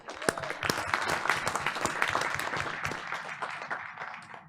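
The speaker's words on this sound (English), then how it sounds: "we want to give her applause anyway" Audience applause at a board of education meeting, a steady room-filling wash of many hands clapping throughout, fairly faint and distant, with a few murmured voices mixed in.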